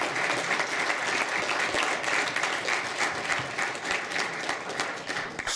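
A conference audience claps steadily throughout, a dense, even wash of applause at moderate loudness with no talking over it.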